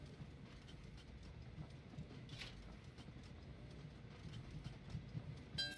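Trains rumble along the tracks in Train Valley 2, with a steady low clatter of rolling wagons, faint and continuous with a slight swell toward the end.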